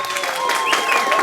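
Wedding guests applauding couple number 3, a short burst of crowd clapping and cheering with a sustained whistle-like tone running through it.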